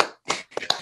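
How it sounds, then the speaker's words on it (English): Scattered cheers and claps from a small online group joining in over unmuted microphones, a few brief bursts separated by short gaps, thin and uneven. "let's just practice a joint cheer for what we're about to hear"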